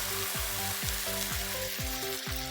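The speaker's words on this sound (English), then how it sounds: "Give it a nice stir." Yogurt masala frying in a pan crackles and sizzles steadily while a spoon stirs it in a regular rhythm of repeated scraping strokes, close up and with no voices.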